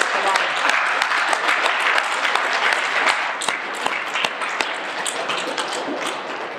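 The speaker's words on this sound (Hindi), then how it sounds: "ताली बजा दो एक बार बढ़िया से।" A yoga gathering's audience claps together at the close of a session, a loud, sustained burst of many hands with a faint voice underneath.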